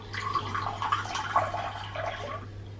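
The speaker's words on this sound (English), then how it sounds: "I'm going to put a little bit of water in a glass and like pour it in." A small amount of water is poured from a glass into sugar cookie icing, giving a faint, brief trickling and splashing that lasts a couple of seconds before stopping.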